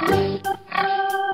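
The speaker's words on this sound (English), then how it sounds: "Pig." A pig in a farm nursery rhyme gives two short, tonal oinking grunts in quick succession, loud and close, with nothing else around them.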